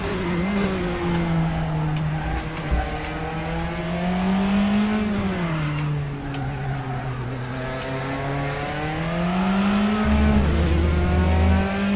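Race car engine in RaceRoom racing sim during a BINCAR championship race at Silverstone, a loud sustained roar rising and falling through gear changes and revs for the whole stretch, with no talking.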